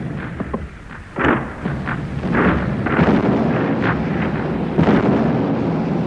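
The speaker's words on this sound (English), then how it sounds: "pulverizing the city through air bombardment and almost ceaseless artillery fire" Heavy artillery fire and air bombardment of a city under siege, rendered as a dense wall of deep booms and rumbling blasts that roll continuously, with several sharper bursts standing out over the sustained low roar.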